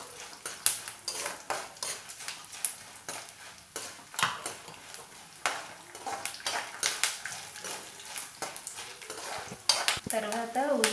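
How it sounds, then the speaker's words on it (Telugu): Chana dal fries in a pan while a metal spoon stirs and scrapes, giving a soft sizzle under a rapid series of clinks and scrapes close by, with a brief voice near the end. "కొంచెం శనగపప్పు, వేసి కొంచెం ఫ్రై చేసుకోవాలి."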